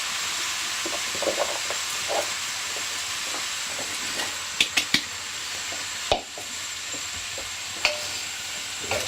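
Chopped vegetables hiss and sizzle steadily in a hot cooking pan, with occasional sharp clicks and taps of a utensil against the pan.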